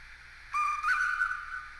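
Whistle of a Tillig HO-scale French 040 TX steam locomotive model, a single short, thin, sustained toot with a slight pitch wobble, sounding alone over faint background hiss.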